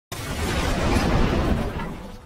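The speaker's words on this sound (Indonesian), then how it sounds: "Namun alhasil bom terjatuh dan akhirnya meledak hingga menewaskan semua temannya di sana." A bomb explodes in a sniper war film, a sudden loud blast that rumbles on as a dense roar for about two seconds before starting to fade.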